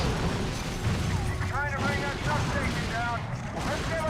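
Heavy crashing booms and rumbling destruction as Hulk smashes a substation in the Hulk: Ultimate Destruction video game, loud and continuous, with someone talking over it.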